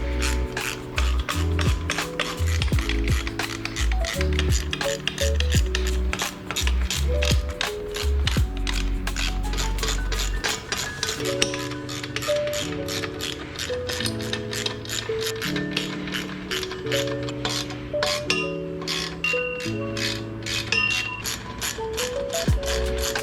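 A ratchet tightens bolts while a TopLift Pros Lift N Go hardtop removal and storage tool is assembled outdoors, giving steady, rapid clicking over a tonal background throughout.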